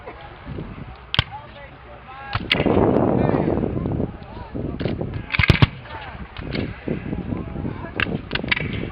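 Rifled muskets fire at a Gettysburg Civil War re-enactment in sharp, scattered reports, some close and loud, others distant. A rolling volley runs through the middle, and a voice can be heard faintly beneath the shots.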